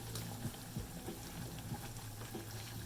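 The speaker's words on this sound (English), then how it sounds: "the heavy cream is starting to boil here" Heavy cream coming to a boil in a pot on a stovetop for homemade mac and cheese, heard as faint, steady low bubbling with scattered soft pops throughout.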